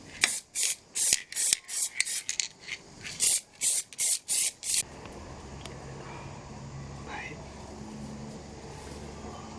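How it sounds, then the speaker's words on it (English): Cheap black aerosol paint hisses from a spray can in a dozen short, sharp bursts with brief gaps between them, close and loud, then stops and leaves a quiet low background hum. "Just got some cheap black paint, so you just want to mask off the area to make sure you don't get overspray on everything."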